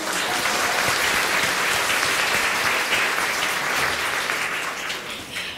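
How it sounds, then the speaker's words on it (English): Steady, dense applause from a large audience at an International Women's Day dinner, loud and sustained for about five seconds before easing slightly at the end, with no talk over it. "Give yourself a round of applause."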